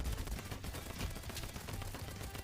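Rapid, dense bursts of gunfire from a banana gun in a video game, shooting at a Lego titan, crackle continuously at moderate loudness.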